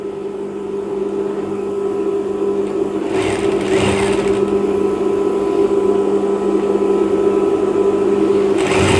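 Sewing machine stitching a children's sports shirt made of thin fabric, a loud close steady whirring hum running without pause, with a couple of brief rustling bursts of cloth being handled partway through.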